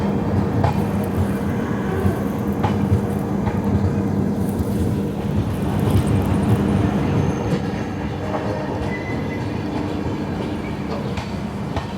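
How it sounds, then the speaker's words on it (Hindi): The Saurashtra Janta Express passenger train stands at or rolls through a station, with a steady loud low rumble and faint clatter throughout. "23 मिनट की देरी से 12:38 पर हमारी ट्रेन पहुंची है"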